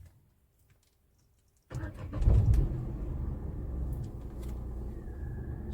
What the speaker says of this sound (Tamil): வாங்க இப்போ காரை ஸ்டார்ட் பண்ணுவோம்.